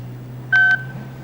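A phone number punched into a telephone keypad gives two short, clear dialing tones in quick succession over a low steady hum.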